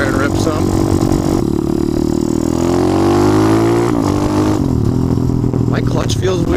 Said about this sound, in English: I'm gonna rip some wheelies out there